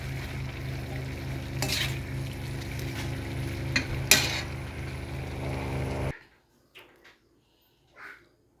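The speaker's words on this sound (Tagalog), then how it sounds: "So ilalagay ko na ang ating samot na gulay." Mixed vegetables, alugbati with sweet potato and squash shoots, sizzle steadily in a hot pan for about six seconds with a couple of sharp stirring clatters, then the frying cuts off, leaving near silence broken by a few faint knocks.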